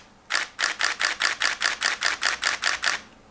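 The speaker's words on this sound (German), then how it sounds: "ich will jetzt mal auf High Speed, beziehungsweise so schnell wie möglich Serienbild" Nikon D4 camera shutter firing in continuous high-speed burst mode: about twelve crisp, evenly spaced mechanical clicks in quick succession, close and loud, then stopping.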